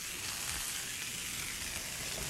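Corn cooking in a hot pan, a continuous faint hissing sizzle with an even texture and no voices.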